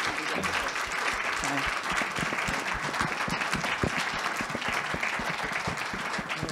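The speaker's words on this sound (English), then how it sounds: "Can we get Dr. Swain a round of applause?" A lecture audience gives Dr. Swain a sustained round of applause after a talk on race relations, dense and even clapping that continues steadily throughout.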